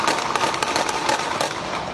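A rapid burst of sharp cracking shots rings out on a street near the airport in San Juan, Puerto Rico, loud and close, the irregular bangs following one after another for two seconds.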